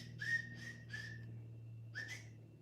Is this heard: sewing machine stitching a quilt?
no